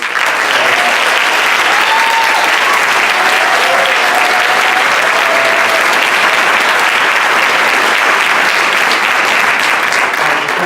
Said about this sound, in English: who also deserves a huge round of applause